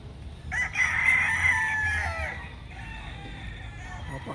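A game fowl rooster crows once, close and clear, a long drawn-out call, with quiet background noise and faint clucking afterward.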